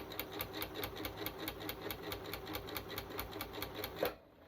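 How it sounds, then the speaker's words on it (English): A sewing machine stitches around the edge of a fabric butterfly. It runs at an even, rapid tempo, giving a regular clatter of needle strokes for about four seconds before stopping abruptly. The sound is close and fairly quiet. "So I'm just going to sew that all the way around, being careful not to catch my string."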